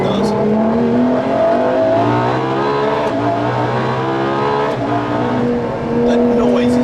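A Ferrari LaFerrari accelerating hard out of a hairpin in second gear, its engine rising in a loud, sustained howl close by, with rising harmonic tones and a short dip between gear changes.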